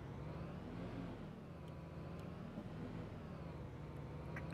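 A fire engine in Notruf 112 drives off, its engine humming steadily at moderate volume with a continuous low rumble and no voices.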